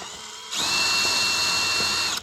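A power drill bores a quarter-inch hole in a feeder box, starting abruptly and whining loudly and steadily at close range for about two seconds before it cuts off.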